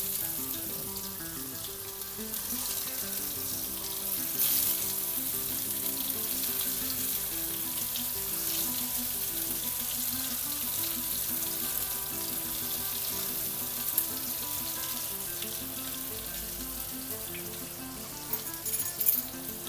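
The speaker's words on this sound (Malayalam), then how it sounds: "ഈ ചൂടായ എണ്ണയിൽ നമുക്കിതെടുത്ത് ഓരോന്നോരോന്നായിട്ട് വറുത്തെടുക്കാം." Eggplant slices fry in hot coconut oil for an omelette dish, giving a steady, close crackling sizzle that runs the whole time, with a few brief clinks near the end.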